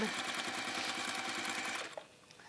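Sewing machine running steadily at close range as it top stitches fabric for a waxed-base drawstring caddy, a rapid even needle rhythm for about two seconds before stopping and leaving quiet room tone.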